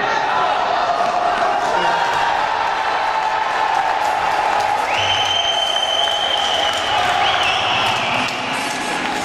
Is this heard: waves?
no